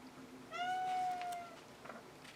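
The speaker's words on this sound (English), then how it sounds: "my cat is meowing away at something" A pet cat gives a single clear, sustained meow close by in a quiet room, with faint handling noises afterward and no talking.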